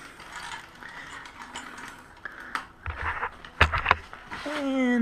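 A bicycle wheel is worked free from under its brake, bringing a rapid ratcheting click of the freewheel, some mechanical clunks and a rising squeak near the end, close and fairly loud.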